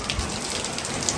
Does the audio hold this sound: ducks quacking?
no